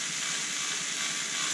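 Drum tension screw being turned with a tuning key on a drum kit, a quick faint ratcheting click pattern under steady broadband hiss, close up with no voices.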